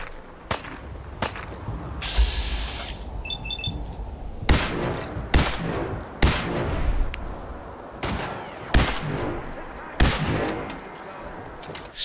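Sharp gunshots crack in Fallout 4, a dozen or so loud, separate shots at irregular intervals, some with metallic pings, while the player character is under fire.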